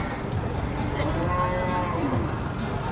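Holstein-Brahman cattle mooing at a livestock sale, a couple of low drawn-out calls rising faintly over a busy, noisy background of crowd chatter and ambient din.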